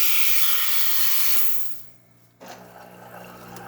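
Steam hisses loudly from the steam wand of a Jura Impresa E8 coffee machine, a broad continuous rush that fades out, pauses briefly, then bursts back on more softly.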